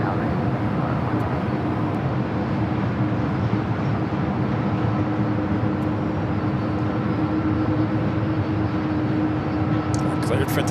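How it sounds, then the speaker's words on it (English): A Singapore Airlines airliner taking off at LAX, its jet engine roar forming a steady, fairly loud rumble throughout, under air traffic control radio chatter. "Cleared for takeoff, Singapore, heading back to Tokyo Narita, continuing on to Singapore."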